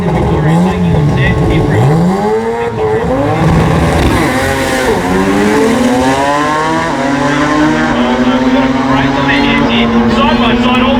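Drag racing cars at the Garrett Brisbane Jamboree scream side by side down the strip, engine notes rising and shifting in loud overlapping sweeps, with a commentator talking over the roar.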